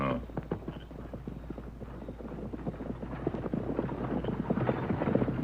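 Powerful horses gallop in a rapid, dense patter of hoofbeats that grows gradually louder as the riders draw nearer, with no talking.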